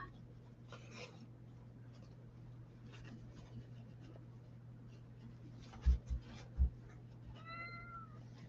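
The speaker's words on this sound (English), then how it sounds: "I hear a kitty cat crying." A cat meows near the end, a short rising cry over a steady low hum, after scattered scratching and a couple of soft thumps.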